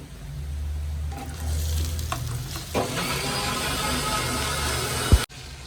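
Ivy gourd hits hot oil and sizzles steadily in a pan, with stirring scrapes and a sharp clank near the end.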